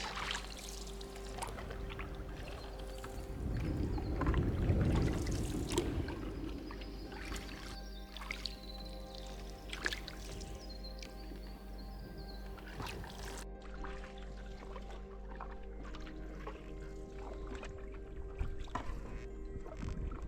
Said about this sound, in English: Just had to line the canoe up a short rocky section.